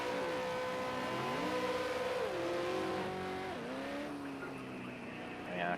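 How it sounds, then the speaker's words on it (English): V8 Supercar burnouts at Zhuhai International Circuit after qualifying: a loud, sustained engine roar with rising and falling revs, continuous close-up throughout, with tyre squeal layered over the engine. "10 seconds worth of V8 burnouts"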